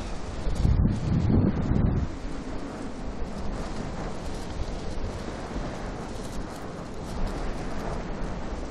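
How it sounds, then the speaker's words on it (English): Cold wind blowing across an open spot at Manchester International Airport, a steady broadband rush with heavy low buffeting on the microphone during the first two seconds, then a continuous windy hiss to the end. "cold wind as well. Cold wind chill."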